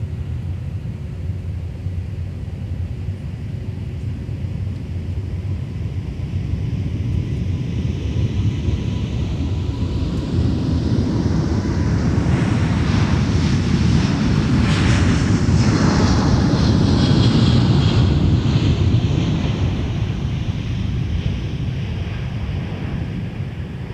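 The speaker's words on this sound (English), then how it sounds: "did everybody notice that little throttle and then that big throttle when they throttled up?" Jet engines of an airliner throttling up at MSP airport, a loud, broad roar that swells steadily with a rising whine at its peak and then eases slightly, heard alone with wind noise on the microphone.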